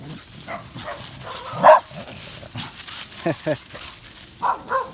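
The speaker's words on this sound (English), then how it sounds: "And there's a dog. There's a puppy dog." A dog barks in a few short, sharp bursts outdoors at an old ghost town site, under and between people talking nearby.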